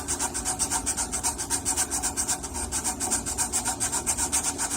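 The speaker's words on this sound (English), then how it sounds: "you can see where I'm sanding" Rhythmic rasping of belt-sander sandpaper rubbed back and forth over filler on a wooden coffee table, quick regular strokes, close and steady throughout.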